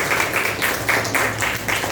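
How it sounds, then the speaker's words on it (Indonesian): A class of students applauds during a biology lesson on virus structure, with fairly loud, rhythmic group clapping in repeated bursts and no talking. "Tepuk tangan."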